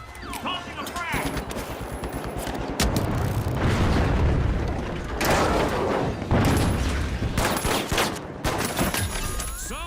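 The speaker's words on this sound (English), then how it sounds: "Tossing a frag!" Frag grenade blast in The Finals amid a chaotic firefight, with bursts of automatic gunfire and heavy booms rolling through the mix while players shout over the action.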